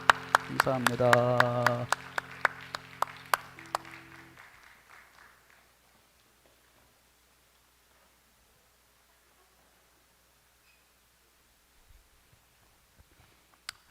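Church congregation applauding together, loud dense clapping for a few seconds that fades away as the applause dies down, followed by a spoken thank-you.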